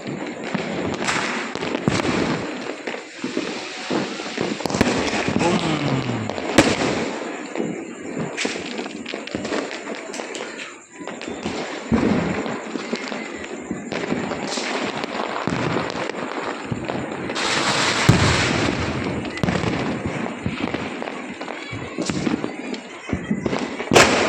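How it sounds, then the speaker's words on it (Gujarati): Rapid Diwali firecrackers in Bhavnagar crackle and pop continuously, with dense bursts and occasional heavier thuds, loud and close throughout. "હેઠેથી અત્યારે હાથ પડે છે ફટાકડા ફોડવા"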